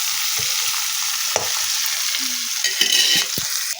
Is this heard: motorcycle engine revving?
no